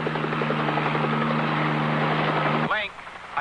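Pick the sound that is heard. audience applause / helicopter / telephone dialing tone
helicopter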